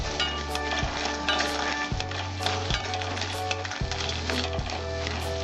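Bori lentil dumplings fry in hot oil with a steady, close crackling sizzle, broken by a few stirring scrapes and knocks.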